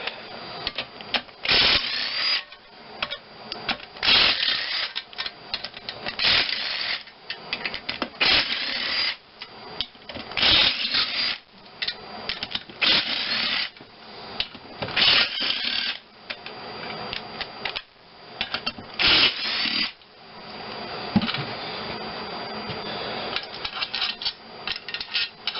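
A wrench loosening the main bearing cap bolts on an engine, a long stretch of close ratcheting, clicking and metallic rubbing in uneven bursts with brief pauses, no talk.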